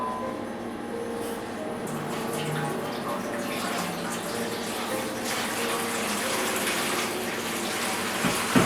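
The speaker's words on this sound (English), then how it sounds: "get a larger baking tray than the one you're using and fill it up with water" Water runs steadily from a tap into a baking tray, a continuous rushing splash that shifts slightly in tone as it fills, with faint clinks near the end.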